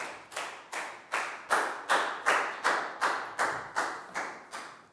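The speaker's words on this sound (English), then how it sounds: "High five and a big round of applause for Chu, please, guys." Children in a Year 4 classroom health lesson clap together in unison, about a dozen crisp, evenly spaced claps in a steady rhythm, nearby and alone.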